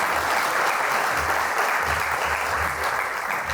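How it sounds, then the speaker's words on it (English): Sustained crowd applause for Chamber board members at a State of the City Address, steady dense clapping throughout with no pauses and no voices. "Let's give a round of applause to Chamber board members."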